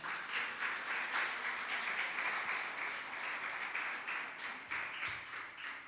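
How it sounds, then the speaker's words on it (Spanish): A church congregation gives a sustained round of clapping as an offering of praise to the Lord, a dense wash of many hands at moderate distance, steady for several seconds with no talk over it. "Dele una ofrenda de palmas al Señor."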